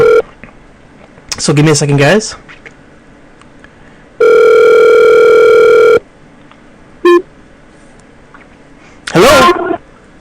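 Telephone keypad tones and a steady dial tone on a radio call-in broadcast as a caller is added to the line: bursts of dialing beeps, a long two-second tone, a short blip and a final burst, loud, with brief speech at the start.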